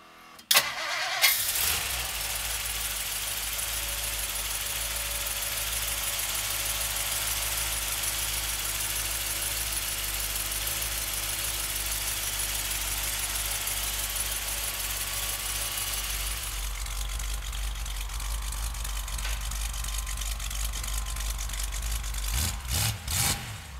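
A supercharged 1957 Ford Custom with a 312 V8 cranks briefly and catches, then settles into a steady, loud idle that holds for about twenty seconds before a few throttle blips near the end.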